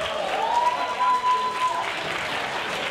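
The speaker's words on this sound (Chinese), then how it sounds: "再一次俾啲掌声我哋嘅世界冠军钢琴玫瑰阿 Rose， 亦都俾啲掌声阿 Ben" Steady audience applause fills about three seconds after a four-hands piano performance at a 2018 Hong Kong startup brand awards gala, with dense continuous clapping and no speech.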